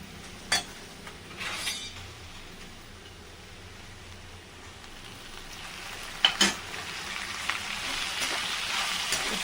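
Masala frying in oil in a pan for okra sambar, a soft steady sizzle with a few sharp clinks and scrapes of a stirring utensil, close by and without talk.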